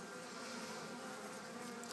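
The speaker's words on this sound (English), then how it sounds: "As you can see, the bees there are capping off comb" Honey bees inside a top bar hive make a dense, continuous buzzing hum, close and steady throughout, with no voices.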